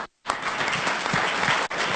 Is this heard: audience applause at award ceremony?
yes